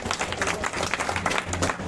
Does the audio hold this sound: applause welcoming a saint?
yes